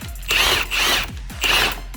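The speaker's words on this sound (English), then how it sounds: "So now I'm gonna use a drill." A power drill spins out the front wheel axle bolt on a Honda CBR650R motorcycle. It whirs in three close, loud bursts separated by short pauses, with a ratcheting mechanical edge and no talking.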